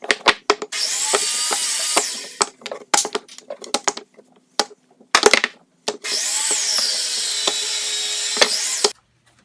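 Power saw cutting wood blocks for a giant Jenga set, two sustained loud cutting runs separated by sharp knocks, clatter and handling of the blocks, close up with no talk.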